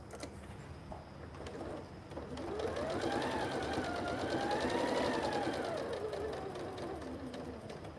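A sewing machine stitches quilt fabric with a steady, whirring motor hum that rises in pitch as it speeds up, then slows. Birds coo faintly in the background.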